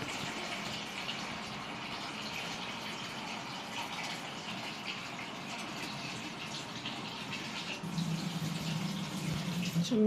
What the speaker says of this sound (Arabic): بس كده اجيب مية من الحنفية، مية عادية